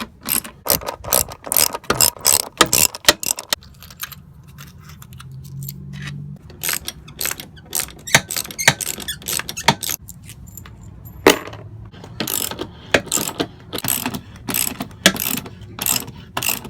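A ratchet wrench loosens the bolts holding a van seat, rapid loud clicking bursts close by, stopping for pauses and starting again, with some metallic clinks in between.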